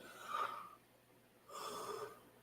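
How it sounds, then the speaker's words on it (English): A person yawns twice, each a breathy drawn-out exhale with a gasping, slightly voiced quality, the first in the opening half second and the second after a short pause, close and fairly quiet. "I'm yawning already"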